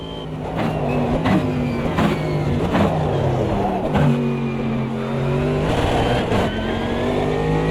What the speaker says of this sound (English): I stamped on the throttle and I got a bit of oversteer